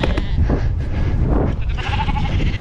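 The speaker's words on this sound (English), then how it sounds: "Friendliest sheep I've ever met." Sheep bleating near a cyclist on a bikepacking trip in rural Britain, with short bleats over steady outdoor rumble and a brief tonal call late on.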